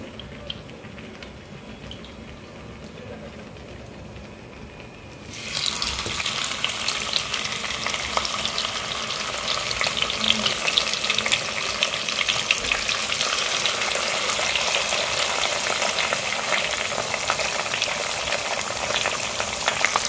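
Pabda fish hits hot oil, and a soft background hiss jumps after about five seconds to a loud, steady, crackling sizzle that carries on close up for the rest of the clip, with no talking.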